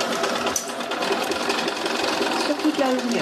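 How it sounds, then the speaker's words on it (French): A sewing machine running a straight-stitch seam along a zipped panel of a bag, a continuous close mechanical whirr throughout, with someone talking over it. "Et je fais ma couture au point droit"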